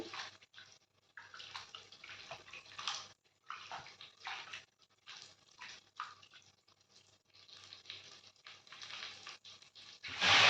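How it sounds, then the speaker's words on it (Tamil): Water poured and splashing over vegetables being rinsed by hand to wash off soil, a steady trickling wash with short breaks, ending in a louder gush. "இந்த மாதிரி நல்லா வந்து தண்ணி ஊற்றி கழுவிக்கோங்க."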